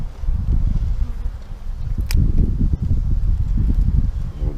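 A honey bee swarm hums low and continuous as the bees are dropped into a hive box, a dense rumbling drone with a brief sharp knock partway through, close and steady.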